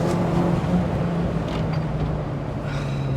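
Vauxhall Frontera 4x4 VXR driving with its rear end sliding out, heard from inside as a steady, moderately loud engine and tyre drone with rising tonal whine, no talk.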